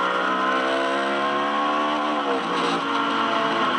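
A Ferrari GT race car at a street-circuit motor race screams past with a loud, harmonically rich engine note that holds steady and then dips as the pitch drops, sounding rough and off song with a suspected gearbox problem; no talking.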